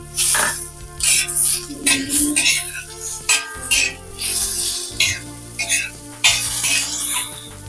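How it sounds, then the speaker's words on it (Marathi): Tomatoes frying with browned onions in a pan for an egg curry, with loud clattering stirs and scraping of a utensil against the pan over a steady sizzle, close and busy throughout. "त्याच्यामध्ये टॅमॅटो टाकू तो एक मिनिटभर फ्राय करून घेऊ"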